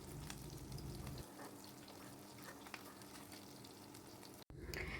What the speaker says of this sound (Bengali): কড়াইতে তেল গরম হয়ে গেছে, আমি অল্প অল্প করে মাছ দিচ্ছি ভাজার জন্য।